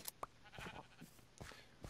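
Blocky sheep in a Minecraft world let out several short, quiet bleats, spaced irregularly over a couple of seconds and heard faintly on their own.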